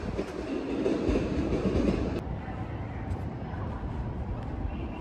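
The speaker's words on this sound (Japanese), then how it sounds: "先ほどまで停車していた上諏訪駅普通電車が出発していきます。" An Iida Line local train pulls away from Toyohashi Station, a steady rolling rumble with clickety wheel noise and a brief squeal, fairly close, with no talking.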